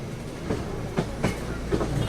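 The Bhagirathi Express passenger train rolls slowly over a track crossing near Bangaon, its wheels knocking out a clear clickety-clack every half second over a steady rumble from inside the carriage.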